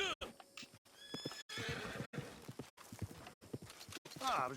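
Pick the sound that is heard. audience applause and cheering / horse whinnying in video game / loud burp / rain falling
horse whinnying in video game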